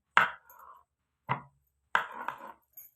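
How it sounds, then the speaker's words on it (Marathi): Knife chopping peeled boiled potatoes on a board, four separate sharp close chops at uneven intervals with brief gaps of silence between them. "इथं आपली बटाट्याची साल काढून झालेली आहे आता आपण ह्याला चिरून घेणार आहे"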